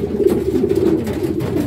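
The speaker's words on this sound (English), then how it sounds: "Just paired the race birds up." Racing pigeons, just paired for the race season, coo steadily in a loft, a low continuous murmur of overlapping calls close by with no talk.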